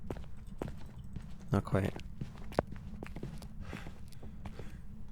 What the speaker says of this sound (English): I hear its footsteps, even without my flashlight flickering